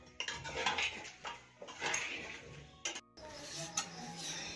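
A spoon clatters and scrapes against a metal pan while masala with green coriander is mixed on the stove, with busy, close clanking in uneven bursts and a brief pause near the end.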